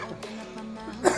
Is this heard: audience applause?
no